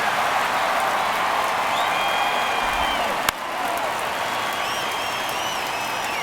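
A stadium crowd in MLB The Show baseball roars as a steady wash of cheering and applause through a tense ninth inning of a one-run game, broken by one sharp crack.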